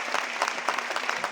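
Audience applause at an AWPL gathering honoring gurus and mentors: dense, lively clapping from a crowd, loud and continuous throughout the short stretch with no talk over it.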